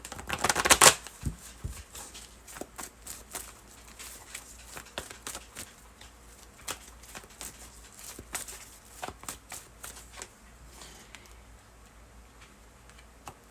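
A tarot deck is riffled sharply at the start, followed by a steady run of soft, close card taps and flicks as individual cards are drawn and laid out one by one.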